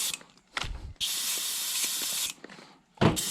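Paint spray gun blasting cleaner through its cup while being flushed out after painting a Sunfish, heard as three separate bursts of harsh hiss: a short one, a long steady spray of over a second, then a final short blast, close and loud.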